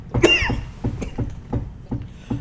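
A fit of repeated coughs from a man after eating something spicy, coming as a rough, evenly spaced run of close bursts.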